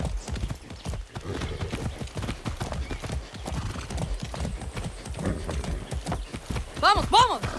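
In Far Cry 6, a horse's hooves clip-clop in a steady trotting rhythm close by, ending with a loud, wavering neigh, while someone talks over the hoofbeats.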